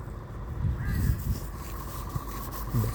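A crow caws a few times at a distance over faint outdoor background noise in a parking lot in the Netherlands.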